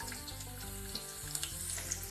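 Chopped garlic frying in a spoonful of oil in a kadai for Chicken 65 gives a steady, close sizzling hiss that runs unbroken for the whole stretch, with no voices.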